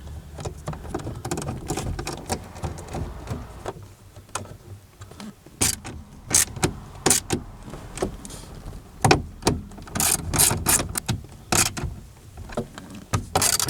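Bolts on a 2004 Toyota Avalon rear subwoofer cover being snugged down, heard as scattered close metallic clicks and taps of a tool, sparse at first and then in denser clusters.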